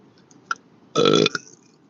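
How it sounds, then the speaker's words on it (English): A single loud, drawn-out burp of about a third of a second stands out clearly, preceded by a couple of faint small clicks and followed by a brief trailing sound in a quiet room. "Excuse me, I'm sorry I'm burping."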